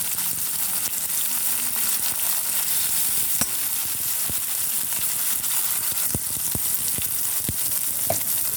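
Tomatoes sautéing in a pan for a Kerala tomato moru curry give a steady close sizzle and hiss, broken by several sharp clicks of a spoon scraping the pan near the end.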